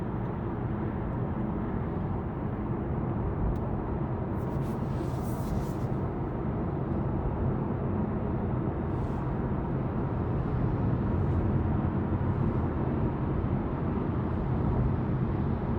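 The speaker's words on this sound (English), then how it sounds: "Now there's a little bit of road noise" Steady road and tyre noise inside a 2023 Honda Accord Sport cruising around 55 mph, a constant low rumble with faint wind hiss. No talk is heard.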